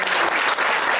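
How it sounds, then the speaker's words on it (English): A crowd at a Dasara exhibition gathering breaks into dense, steady clapping, loud and sustained throughout with no voices over it. "the curator of the entire exhibition, Srimati Maya Chandra, deserves a round of applause once again."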